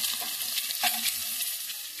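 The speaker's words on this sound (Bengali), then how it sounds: "ডিমটা ভেজে নিচ্ছি।" Eggs frying in a pan over raised heat, a loud continuous sizzle with a brief stirring swell partway through, with no talk.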